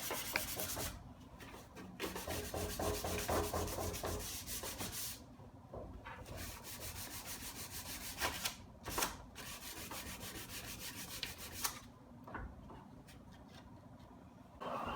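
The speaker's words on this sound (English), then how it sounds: "The first thing I'm going to do is sand it with a 150 grit sandpaper" Sandpaper of 150 grit rubs back and forth by hand across a wooden Art Deco dresser, a close, scratchy stroking in uneven bursts with short pauses between passes.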